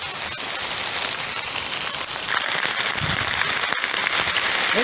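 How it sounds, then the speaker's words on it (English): Hailstorm of ice rain pelting a boat under refit, a dense steady patter of hard impacts that thickens and grows louder partway through, with no talk. "It's a fucking hailstorm,"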